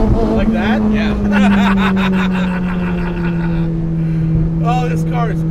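A 330HP all-motor 2007 Honda Civic engine holds a loud, steady drone on track, its pitch gliding slowly downward, with people talking over it throughout.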